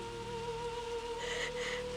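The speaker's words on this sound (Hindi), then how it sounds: "एक दिन तूफानी रात, बारिश हो रही थी।" Cartoon rain sound effect for a stormy night: a steady wash of falling rain with a soft patter, alongside a sustained tonal hum throughout, at an even moderate level with no voices.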